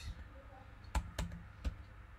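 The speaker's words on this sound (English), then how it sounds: "when you press Alt in your keyboard and D, then this pop-up will search" Three sharp computer keyboard key presses, an Alt and D shortcut, spaced apart at close range over a quiet background hiss.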